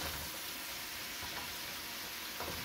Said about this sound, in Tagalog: Nagmamanti-mantika na. Ilagay na natin ang ating mga gulay.